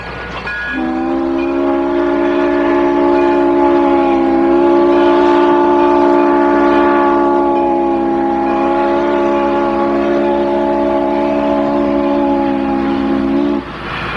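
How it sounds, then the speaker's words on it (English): A long, steady steam whistle chord sounds loud and close for about thirteen seconds, holding one multi-tone pitch before cutting off abruptly. "That's the whistle of a steam locomotive."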